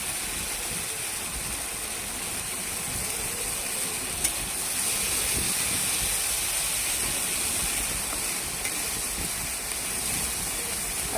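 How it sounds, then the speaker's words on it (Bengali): Prawns frying in oil with black cumin seeds in a home kitchen, giving a steady, continuous sizzling hiss that holds at an even level throughout with no talking. "তেল দিয়ে কালো জিরে দিয়ে চিংড়ি মাছটা ভেজে নিচ্ছি"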